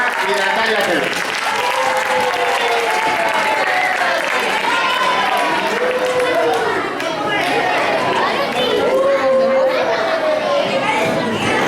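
Sustained applause from a school audience welcoming fifth- and sixth-grade primary students to a class debate, loud and dense throughout, with children's voices and chatter rising above the clapping.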